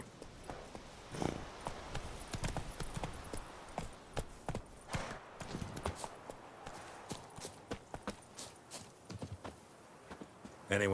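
Horse hooves clip-clop as a rider travels in The Witcher 3, a steady run of close hoofbeats at a walking pace.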